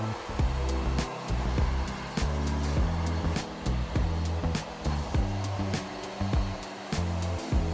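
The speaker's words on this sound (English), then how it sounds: "Use a high-powered hair dryer, heat gun, or gas torch to heat it up." A high-powered hair dryer or heat gun blows steadily up close, heating shrink wrap onto an e-bike handlebar grip, its loud airy roar wavering slightly with faint rhythmic ticks throughout.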